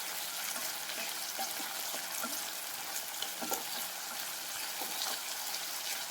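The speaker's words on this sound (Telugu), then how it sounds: "ఇలా బాగా మిక్స్ చేసుకోవాలి." Moong dal being stirred into a bean and carrot curry in a pan, a steady soft sizzle with faint intermittent scrapes of a spoon.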